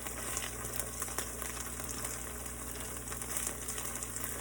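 Ribeye steaks sear in a pan on a stovetop with a steady, continuous sizzle and crackle, close and moderately loud, with small spatters and no talking.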